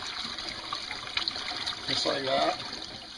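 Raw raccoon meat rinsed under a running cold-water tap, a steady trickle and splash of water with brief talk over it.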